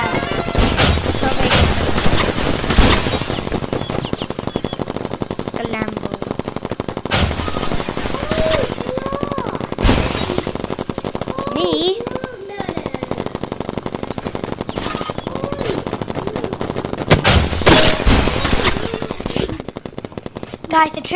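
Repeated bursts of gunfire from a long-range gun in a paintball video game, loud, with a few separate volleys spaced through the stretch over steady game noise, and a voice talking at points.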